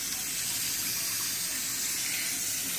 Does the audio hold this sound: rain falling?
no